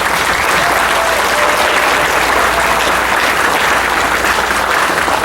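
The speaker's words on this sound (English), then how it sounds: "Can we please give a round of applause for the Executive Board and Board of Directors that made all of this possible?" Sustained, dense audience applause fills a fundraising gala hall, loud and even throughout, with no talk over it.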